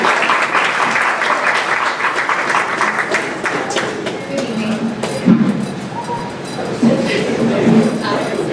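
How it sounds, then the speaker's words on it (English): Applause from the audience at an evening board of education meeting, a broad steady clatter of clapping lasting several seconds with some voices mixed in. "please give a round of applause to Sherry Caravano."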